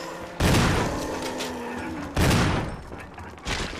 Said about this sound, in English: Thank God for assault shotgun.